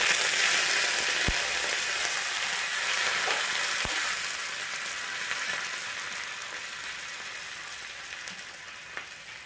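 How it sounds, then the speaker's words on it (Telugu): Curry leaves frying in hot tempering oil for a tamarind chutney, a continuous close sizzle with a few small crackles, easing slightly toward the end. "కొంచెం కరివేపాకు వేసుకుందాం."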